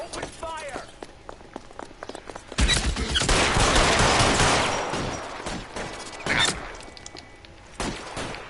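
Gunfire bursts in the LA Noire video game, a dense volley of rapid shots erupting mid-clip and tapering off, with further sharp shots later and talk scattered through.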